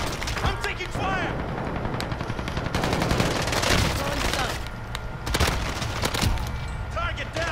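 Gunfire in Call of Duty Cold War Warzone: rapid bursts of automatic fire, near and loud, with distant shots and booms behind, while a voice talks over the action.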